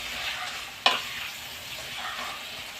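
Ground pork stirred in a hot pan, a continuous sizzle with one sharp spoon knock and soft scraping stirs, close and moderately loud.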